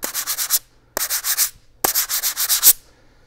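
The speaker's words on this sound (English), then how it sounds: "These are sandpaper blocks." Sandpaper blocks rubbed together as a percussion instrument, three bursts of rhythmic scraping strokes, each a quick run of four or five rasps with short pauses between, close and crisp.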